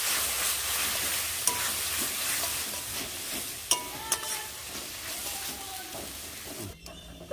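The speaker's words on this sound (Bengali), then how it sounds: "তো বন্ধুরা, মশলা কষানো হয়ে গেছে।" Chopped tomato, salt and turmeric frying with spices in a pan for an egg tadka, a continuous hissing sizzle broken by a few sharp scrapes and clicks of stirring, with no talk.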